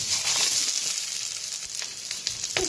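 Puti fish sizzle in a little oil in a kadai, a steady, bright frying hiss broken by sharp little crackles and pops.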